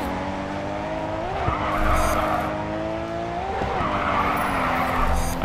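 A car drifts in the racing game Grid 2, its engine droning steadily while the tires skid and squeal in two long surges, loud and close, with no voices.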